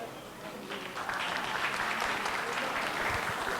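An audience at a high school diversity festival claps in sustained, even applause that swells slightly after the first second and holds steady, heard from within the crowd.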